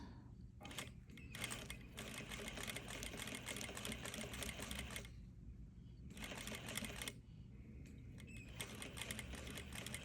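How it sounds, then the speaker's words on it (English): A sewing machine sews a top collar in fairly quiet, rapid rattling runs broken by brief pauses, close and alone with no talking. "I'm gonna just continue to sew"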